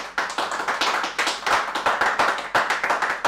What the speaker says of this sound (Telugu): చప్పట్లు కొట్టండి సార్ అందరండి